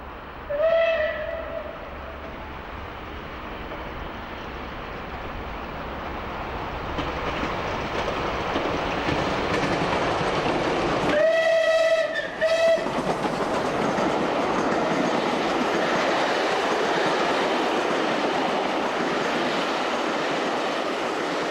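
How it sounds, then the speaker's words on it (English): Steam locomotive Clan Line runs south through Eastleigh Station on a sunny day, a steady rolling roar with clattering wheels and two loud whistle blasts partway through, continuing as it passes. "Clan Line comes hurrying south through Eastleigh Station on a sunny Sunday."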